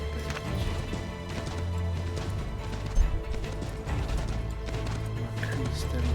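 A horse galloping in the video game Assassin's Creed III, rhythmic hoof clip-clops running steadily under game music and ambience, with one sharper thud midway.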